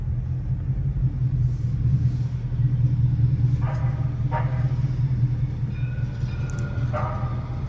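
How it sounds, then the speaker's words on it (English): A city train rumbles steadily past at close range downtown, a heavy low roar that holds for several seconds, with a few brief higher clanks and squeals over it. "Got a little city train."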